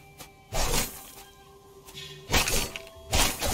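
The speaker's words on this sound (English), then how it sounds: "Hey, this thing can be smashed" Breakable objects smashing in the action game Warm Snow: three separate crashing shatters, each a sharp burst of breaking debris, spread across a quiet stretch with a faint steady game hum between them.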